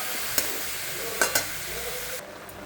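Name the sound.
steamed cabbage stirred and frying with spices in a pan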